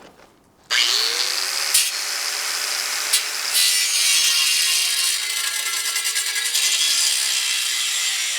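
A grinder cuts greenhouse end wall framing, spinning up sharply after a quiet start into a loud, steady, close whine with a few brief bumps in pitch as the cut continues.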